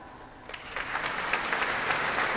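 An audience at a charity opera concert in a cathedral breaks into applause, starting as scattered claps and swelling into steady, reverberant clapping within a couple of seconds, with no talking.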